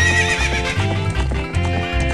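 A horse in The Legend of Zelda: Ocarina of Time whinnies loudly over rhythmic clip-clop hoofbeats of a gallop, the game audio close and continuous.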